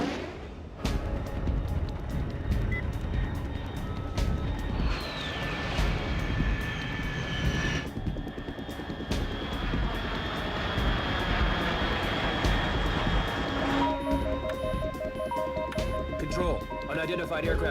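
In the video game Metal Gear Solid Delta, an aircraft roars overhead as a steady engine drone with shifting tonal whines. A voice talks over it throughout.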